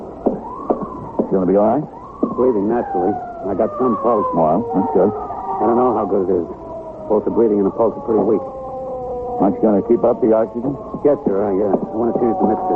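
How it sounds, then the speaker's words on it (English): An ambulance siren wails with rising and falling tones, moderately loud and slowly drawing nearer, beneath continuous anxious conversation in an old radio drama. "That's the ambulance. I hope there's a surgeon aboard."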